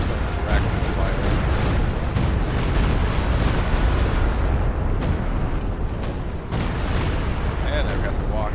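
Artillery in Company of Heroes 2 gives a continuous, heavy rumble of overlapping blasts and booms throughout, with voices speaking over the din.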